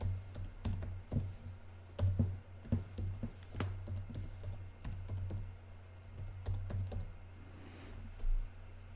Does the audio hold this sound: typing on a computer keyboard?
yes